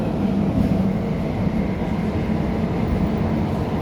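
Passenger train ride in Saudi Arabia near Riyadh, heard from inside the carriage as a steady rumbling roar with a low hum running continuously throughout, with no talking.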